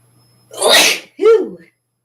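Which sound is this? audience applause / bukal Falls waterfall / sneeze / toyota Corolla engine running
sneeze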